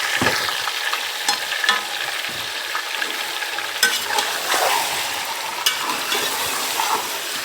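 Yogurt-marinated chicken frying in a handi pot for Mughlai chicken, a continuous close sizzle broken by repeated spoon scrapes and stirring clatter.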